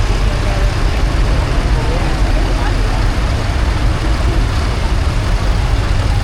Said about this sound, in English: this is the diesel roller. Big single cylinder diesel engine